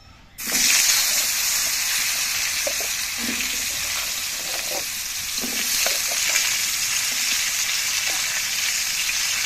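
Mixed vegetables hit hot oil with cumin seeds already browned, bursting into a loud, steady sizzle that holds throughout, with occasional stirring scrapes underneath and no talking.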